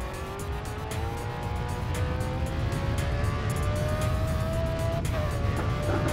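Racing car engine in GRID Autosport, a steady loud drone with a slowly rising pitch as it accelerates, tire squeal and small bumps over the top, continuous throughout.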